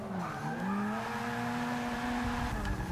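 A chromed Mazda RX7 in Forza Motorsport 6 on Xbox One revs hard under load, its engine tone climbing and holding loud and close, with a rising tire hiss toward the end.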